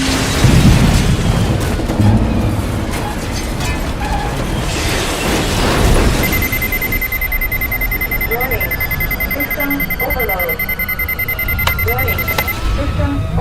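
A spaceship crash landing in a radio drama, with loud roaring rumbles and booms at the start. These give way to a blaring electronic alarm tone, mechanical clatter and a voice speaking over it.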